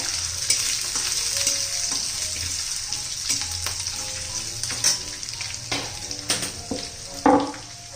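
Ginger-garlic paste fries in oil in a pan for a bottle gourd sabzi. A steady, close sizzle runs throughout, with scraping stir strokes and small spatters.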